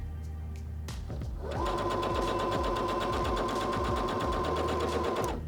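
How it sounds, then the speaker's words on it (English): A Singer HD6600C sewing machine stitches through fabric, starting with a few clicks before settling into a loud, steady, rapid mechanical whir that runs continuously to the end. "I'm going to put my presser foot lifter down and I'm going to sew"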